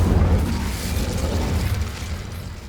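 The Incendio fire spell is cast in Hogwarts Legacy, a deep, sustained whooshing burst of flame with a heavy low rumble that slowly fades, with no talking over it.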